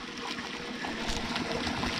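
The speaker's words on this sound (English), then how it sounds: "And that's the sound of flowing water." Water flows and trickles steadily at Blue Point Spring, a desert oasis on the Mojave-Sonoran trail, heard up close as a continuous gurgling stream with no voices.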